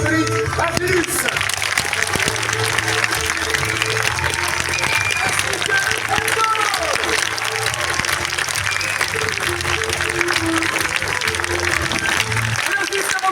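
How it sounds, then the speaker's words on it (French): Applause from a live stage show audience, continuous and dense across the whole stretch, mixed with crowd noise and music, with voices audible beneath and around it. "tout le monde applaudit comme il se doit, on applaudit Angélus."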